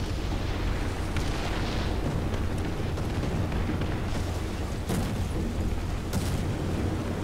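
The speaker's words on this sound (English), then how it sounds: "I got him with my arty." Artillery fire and explosions in War Thunder tank combat, a dense continuous rumble with several sharp distant booms and bursts breaking through the din, loud and unbroken throughout without speech.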